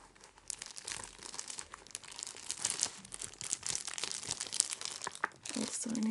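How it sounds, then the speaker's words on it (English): Crinkly plastic packaging from a parcel of British goodies is handled close up, producing continuous crackling and rustling bursts that swell and fade for several seconds, with no talking. "Also in a crinkly packaging."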